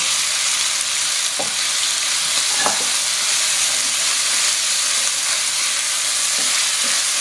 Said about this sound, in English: Give it a good stir up. Let that cook for 2 to 3 minutes.